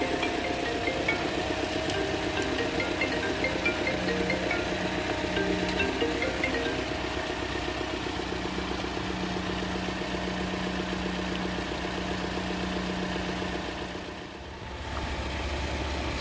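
Steady close idle of a 2014 Toyota Corolla Altis GL petrol engine, an even low hum with faint rhythmic ticking that holds for most of the stretch before a brief dip near the end.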